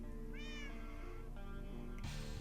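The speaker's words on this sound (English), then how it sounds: "Did you hear that? Bloody cats, bloody cats." Several cats meow in drawn-out, rising cries close by, one call after another over a steady background hum, with a brief shuffle near the end.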